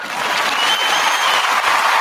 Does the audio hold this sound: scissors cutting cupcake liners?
no